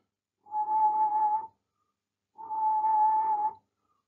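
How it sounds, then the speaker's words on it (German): Two sustained low whistled notes, each about a second long, separated by a short silence, clear and close with no other sound, whistled as a pronunciation aid for the French U sound. "pfeift man zunächst tief"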